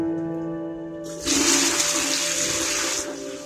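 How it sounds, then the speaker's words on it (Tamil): In a freshly renovated bathroom, a toilet's full flush roars up after a low steady hum, rushing loudly for about two seconds before dropping away. "ஃபுல் ஃப்ளஷும் நல்ல வேலை செய்யுது."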